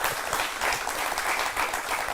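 Audience clapping at a talk on Lord Ganesha, a dense, sustained patter of applause from a large crowd, steady and fairly loud throughout.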